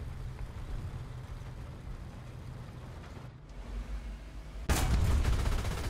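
Heavy gunfire in War Thunder, a low rumbling barrage of shots rolling under engine noise, briefly dipping before a loud, sharp burst of fire near the end.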